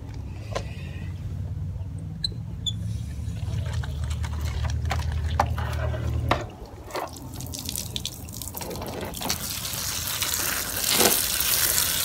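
Water runs from a garden hose into a bin of clay outdoors: a steady close gush with drips and splashes for about six seconds, then sparser splattering and handling noise with a car passing faintly.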